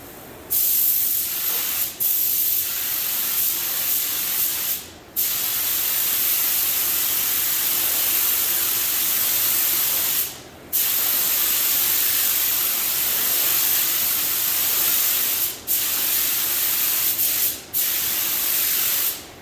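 Spray gun applying medium coats of paint to a 1974 Corvette convertible: loud, close, continuous hissing passes broken by several brief pauses as the trigger is released, with no talk.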